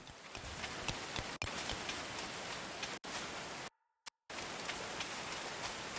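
Steady rain falls in the medieval colony-building game Going Medieval, an even dense patter that holds throughout, broken by two brief dropouts near the middle.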